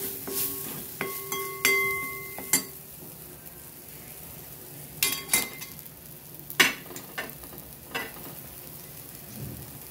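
A spoon clinks and scrapes in a frying pan while spices and half a spoon of red chili powder are stirred for a Marathi matki usal. The metallic taps come in short irregular clusters, with quiet stretches between them and no talking.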